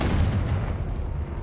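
A Confringo fire spell blast from the video game Hogwarts Legacy, a short, loud low boom that rumbles through the whole moment and trails off quickly, with no talk over it.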